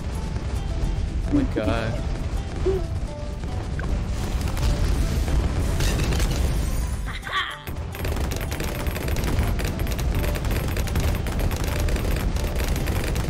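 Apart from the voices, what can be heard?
missiles being shot in Balloon Island video game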